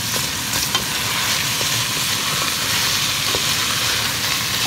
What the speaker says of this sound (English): the water from the frozen vegetables is starting to sizzle